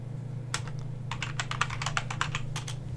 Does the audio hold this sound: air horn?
no